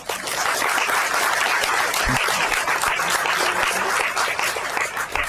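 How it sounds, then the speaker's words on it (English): A roomful of people at a women's policy commission meeting applauds loudly and continuously, a thick unbroken patter of many hands throughout. "Give her a round of applause."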